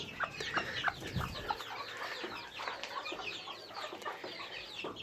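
A broody silver Sebright hen clucks in short, soft bursts with chirpy calls mixed in, close by and fairly quiet, with no talking.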